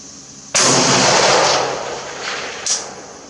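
An AK-12 rifle fires a single loud, sharp shot on a 500 range, with a long echoing decay and a fainter, distant second report a couple of seconds later.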